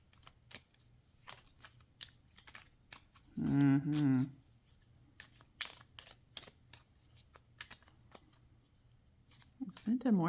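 A Santa Muerte tarot deck is handled and shuffled, giving scattered light card snaps and clicks throughout, close and soft, with a brief voice partway through and another near the end.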